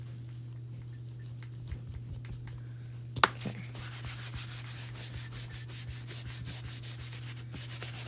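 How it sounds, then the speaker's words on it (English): A chalk transfer being rubbed firmly onto a resin project gives a soft, steady scratchy rubbing that grows denser partway through, with a low background hum and a few faint taps. "we're going to rub a little bit harder to make this a little more textured."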